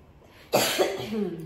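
A single sharp cough from an elderly woman, close and fairly loud, trailing into a brief throaty sound, with near silence before it.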